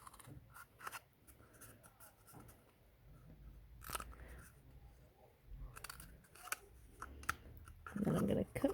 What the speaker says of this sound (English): So I'm going to cut off a bit.